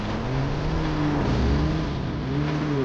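A car engine revs hard and climbs in pitch as the vehicle speeds off to escape a horde of zombies in a film scene, a steady loud roar with no talk.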